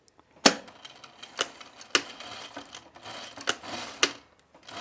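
Sewing machine backstitching over tucks on a top: short bursts of fast mechanical stitching punctuated by sharp clicks and clacks, heard close with quiet gaps between runs.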